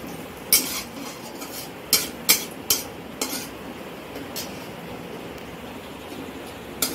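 Cumin, bay leaf and dried chillies frying in oil, a quiet sizzle under a series of sharp metallic taps and scrapes of a spoon against the pan, spaced irregularly.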